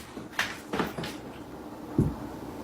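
A door or cabinet opens with a few quick knocks and scrapes, then a dull thud, close by and fairly quiet, with no talk.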